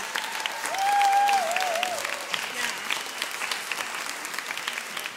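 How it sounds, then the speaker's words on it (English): Concert audience applauds after a choir's first set, a steady crowd of clapping hands with a brief cheer and whoop rising early, then the applause continues evenly. "let's give a round of applause for the first set"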